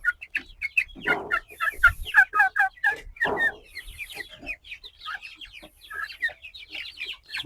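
Several colour bird broiler chickens, 34 days old, cluck and chatter continuously in close quarters on a farm, a busy overlapping stream of short clucks with a couple of louder squawks.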